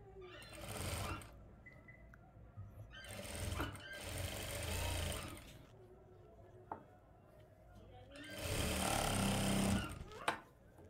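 A sewing machine stitches a palazzo in three loud rapid whirring bursts, each a few seconds long, separated by quieter pauses with small handling knocks.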